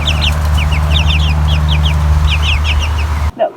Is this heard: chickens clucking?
yes